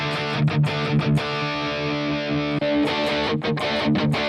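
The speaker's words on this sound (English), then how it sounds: "watch how much changing the cab really changes it, especially with distortion" Heavily distorted electric guitar plays through a Donner Arena 2000 multi-effects processor with a custom cabinet impulse response: sustained, thick chords with several sharp rhythmic chugs at the start and end, loud and close.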